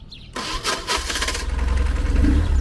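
A close motorcycle engine cranks briefly on its starter, then catches and settles into a loud, steady, pulsing idle, on the second start attempt, parked beside a tools shop.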